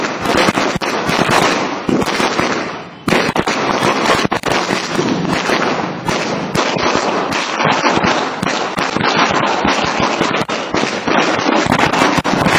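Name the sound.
firecrackers bursting in celebration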